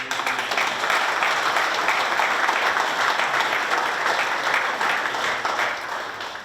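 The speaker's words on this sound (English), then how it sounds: "finishing the day with a little bit of applause for Beck" A conference audience applauds at a dairy industry closing session, a full, even roar of many hands clapping continuously for several seconds before easing slightly at the end.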